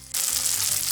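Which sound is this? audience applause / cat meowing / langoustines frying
langoustines frying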